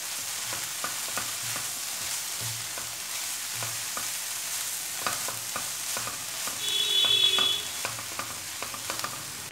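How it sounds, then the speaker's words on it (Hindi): Chaat masala is stirred into chicken samosa filling in a pan. There is a steady run of soft scraping and clinking spoon strokes with a light frying sizzle underneath, and a brief high electronic beep near the end. "चाट मसाले को करेंगे मिक्स।"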